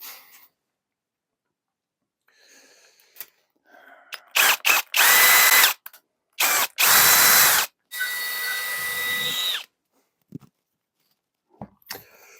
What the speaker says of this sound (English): You need a really long, ridiculous drill bit.